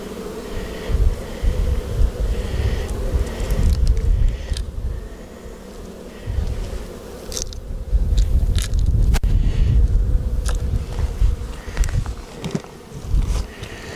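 Honey bees hum around an open hive during an Apivar treatment, the buzz running under repeated close crackling and scraping of hive parts being handled, rising and dipping in loudness over about fourteen seconds.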